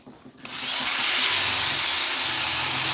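A power sander starts abruptly and runs in a steady, loud hiss as it sands the inside of a wooden piece, close and continuous with no talking.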